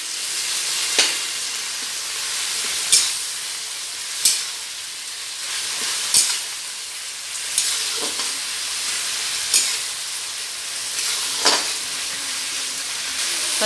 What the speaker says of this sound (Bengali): টমেটোটা আমি ভেজে গলিয়ে নিচ্ছি।